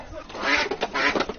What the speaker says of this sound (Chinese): 这个是我们养殖的水鸭